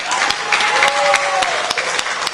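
Crowd clapping at a political rally, a dense, steady wash of many hands applauding at close range with sharper individual claps popping through, while a voice carries over the top.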